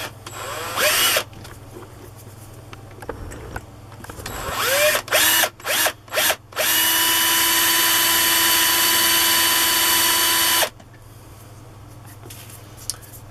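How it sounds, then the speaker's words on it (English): A hardened drill bit bores into a screw on a vintage Haenel Model 2 air rifle during refurbishment: loud, close power-drill whine in several short bursts, then one long steady run of about four seconds before stopping. "So I'll just go nice and slow just so I can get a start."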